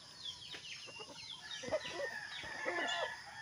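An old native rooster clucks in short, scattered bursts at moderate distance, with other fowl sounds and a faint background hum.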